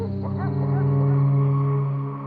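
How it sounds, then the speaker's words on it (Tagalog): A neighbours' dog howls at night in a long, steady, drawn-out wail with a few wavering yelps, loud and close throughout. "Ang lakas naman pumalulong nitong aso ng mga kapitbahay."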